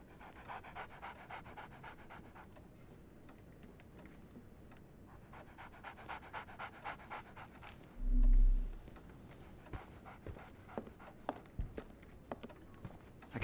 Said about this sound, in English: Barnes has a dog now.